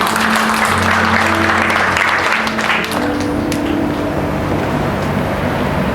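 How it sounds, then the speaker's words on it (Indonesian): A church congregation at a Sunday service claps loudly and continuously, with a low hum running underneath throughout. "Berikan tepuk tangan dulu."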